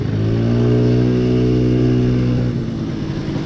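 Classic Honda Melody motorcycle engine while riding, a smooth steady mid-pitched hum with clear tonal harmonics that holds even, then eases slightly as the revs drop near the end.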